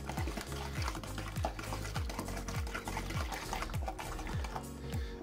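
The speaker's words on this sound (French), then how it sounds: "On mélange bien." White chocolate and egg cake batter being stirred in a bowl, a quick steady run of soft wet clicks and scrapes close by, with no talking.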